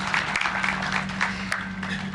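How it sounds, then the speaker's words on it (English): Applause for long-serving KCPE examiners at an examination results event at Mtihani House, South C, a steady crowd of clapping that is fairly even and dense throughout. "Please clap for them."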